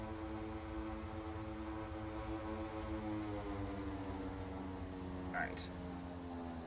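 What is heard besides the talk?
OV-10 Bronco engines at high power taxiing, MSFS video game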